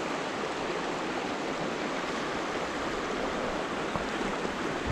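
Yarra River flowing, a steady broadband rush of moving water that stays even and fairly quiet the whole time, with no voices.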